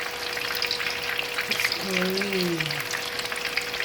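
Dynamite peppers stuffed with cheese fry in hot oil with a steady sizzling crackle, and a brief murmured voice comes in near the middle.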